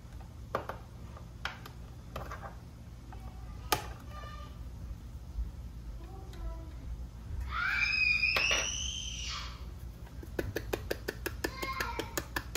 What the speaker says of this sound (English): I'm sure you can hear him screaming